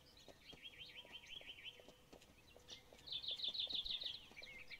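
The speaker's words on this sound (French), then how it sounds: "Les petits oiseaux." Small birds chirp in the video game Kingdom Two Crowns Shogun, with quick trilling tweets at a moderate distance over a soft ambient bed and faint tapping, growing louder and busier in the second half.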